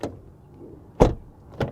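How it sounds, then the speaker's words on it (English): A 2021 Kia Sorento door heard from outside the SUV: a short opening clunk and latch click, then a solid thud as it shuts, followed by a lighter click, all close by and with no talk. "Door open and close sound from the outside"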